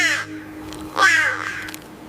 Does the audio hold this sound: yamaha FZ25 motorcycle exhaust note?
no